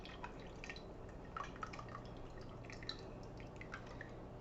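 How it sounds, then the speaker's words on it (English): Canned tomato juice poured through fingers into a soup pot, a faint, steady drip and trickle with a few brighter splashes, alone and quiet. "I'm just going to hold that like this and pour the juice through my fingers"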